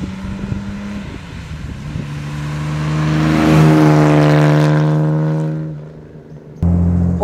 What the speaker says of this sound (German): Der hat einen richtig tollen Sportwagen-Sound.